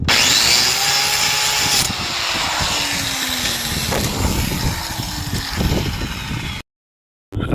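A power tool grinds metal off a part being prepared for track use, a loud continuous whirring roar with rising and falling pitch and scraping bursts, then a sudden cutoff near the end.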